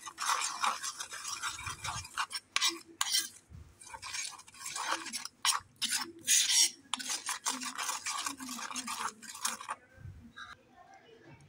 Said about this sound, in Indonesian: Oke, udah selesai diaduk,